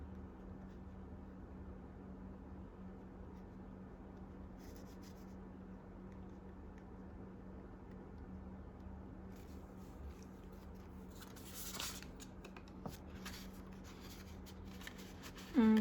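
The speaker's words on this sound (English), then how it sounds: "I'm just gonna write that down" A pen scratches softly across paper while cash is counted into budget envelopes, faint, close and intermittent, with a slightly busier stretch of writing near the end and no talking.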